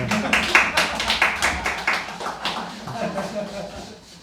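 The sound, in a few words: congregation clapping hands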